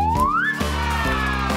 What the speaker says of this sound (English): That's a monkey!